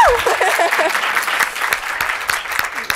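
An audience claps steadily through the whole stretch, a dense wash of applause under brief talk at the start, close and fairly loud with scattered sharper claps standing out.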